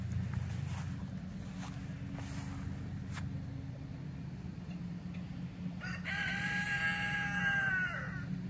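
A black rooster crows once, clear but not close, over a constant low rumble of distant lawn mowers and a few soft knocks.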